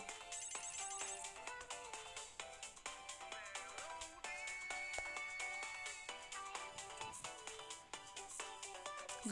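A melodic phone ringtone plays steadily for several seconds, bright tones repeating in a busy musical pattern, with no voices over it.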